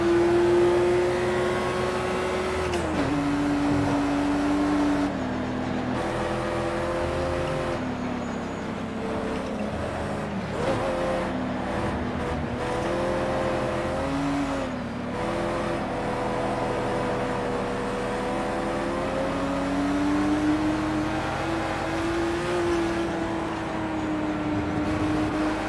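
Race car engines in Project Cars 2 on the Nürburgring, a Ford Mustang among them, drone and whine steadily throughout, shifting pitch through gear changes as cars pass, loud and continuous with no talk.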